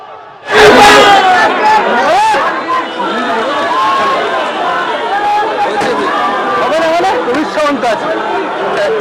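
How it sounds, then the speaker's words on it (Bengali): A large crowd at a heated political rally in Bhabanipur, Kolkata, chanting rival party slogans: a loud roar of many voices erupts, then continues as dense, overlapping shouting and chanting throughout. "ওদিক থেকে তৃণমূল চোর চোর স্লোগান দিচ্ছে, পাল্টা বিজেপিও স্লোগান দিচ্ছে"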